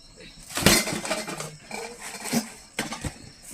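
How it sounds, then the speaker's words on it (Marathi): A clay cooking pot (kadhai) is handled and set down in a kitchen, giving several close, hollow knocks and clinks spread irregularly across a few seconds with quiet background in between. "थोडीशी मट्टी कढई चेंज करून घेतली."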